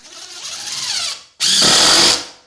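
Power drill driving screws into a plywood subfloor, a rising whine that stops, then a second louder, sustained high whir as the screw seats, close and alone.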